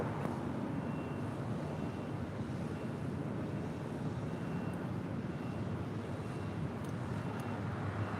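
An American Airlines jet takes off at LAX with a loud, steady, wind-like roar that fills the whole clip without letup, and no voices are heard.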